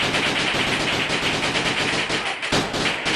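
Sustained rapid automatic fire from a Max 10 gun in the video game Gorebox, loud and continuous for about three seconds with a brief dip near the end, no talking.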